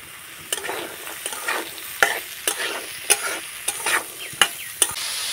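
Potato, bean and carrot pieces frying in a pan, a continuous sizzle punctuated by regular sharp scrapes and taps of a stirring spoon, close and clear with no talk.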